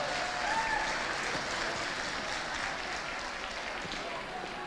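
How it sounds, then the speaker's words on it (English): Audience applause for the dancers at a community dance show, a thick continuous roar of clapping from a large crowd, slightly distant, with faint voices mixed in underneath. "I'd like a huge round of applause for the dancers."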